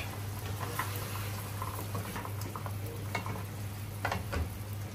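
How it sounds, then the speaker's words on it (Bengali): Fish curry being stirred and sautéed in a pan, with scraping stirs and soft clinks over a bubbling sizzle, close by and brief. "এখন আবার দেখছি আমার তরকারিটা কষানো কতটুকু হলো"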